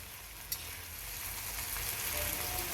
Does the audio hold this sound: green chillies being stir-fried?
yes